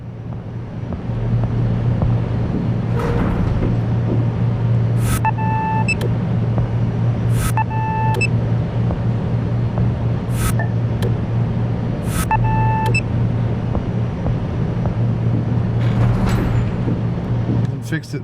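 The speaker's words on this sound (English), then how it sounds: "Open up the engine room audio." Ship engine room in the Seafarer ship simulator game: a steady low engine drone runs throughout, overlaid with a repeating series of short electronic beeps.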